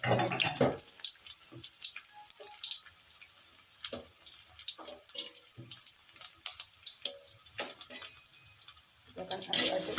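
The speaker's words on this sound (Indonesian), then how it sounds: "saya akan tumis terlebih dahulu bawang merah dan bawang putih yang sudah saya iris tipis" Thinly sliced shallots and garlic sautéing in a pan, scattered crackles and spits over a quiet background, with short bursts of sizzle and a few louder pops near the start and end.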